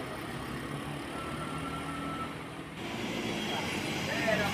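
Rumbling engine and road noise of a tow truck hauling a luxury sedan along the steep, winding Sitinjau Lauik mountain road, a steady low drone with someone narrating over it.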